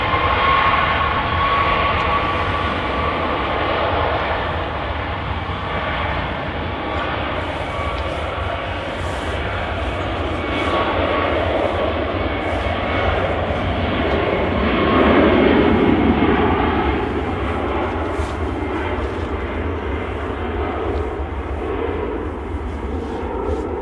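Boeing 737 MAX 8 jet departing Manchester Airport, a broad sustained engine roar heard from a distance that swells gradually and peaks midway before easing off, with no talking.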